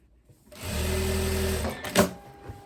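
A sewing machine stitches a tailored blazer, running in a steady continuous whir for about a second and a half, close and fairly loud, then stopping with a brief clunk before quiet handling noise.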